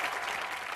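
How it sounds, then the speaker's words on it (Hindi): A short burst of studio audience applause greets guests on a Hindi comedy talk show, steady dense clapping heard at moderate level for under a second. "के लिए जोरदार तालियां।"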